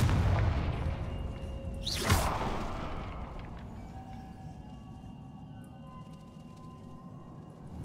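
The Confringo fire-blast spell in Hogwarts Legacy fires with a single sharp whooshing boom partway through, then a slowly fading rumble under a dense, steady game soundscape.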